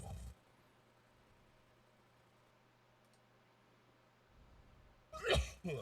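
A single sharp sneeze bursts out near the end, loud and close, after several seconds of near silence.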